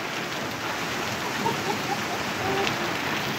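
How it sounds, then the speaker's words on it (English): Heavy rain with big raindrops pours onto a street during a rainstorm in Cedar City, Utah, a dense, steady hiss of falling water with a few brighter splashes standing out. "Those are some big raindrops"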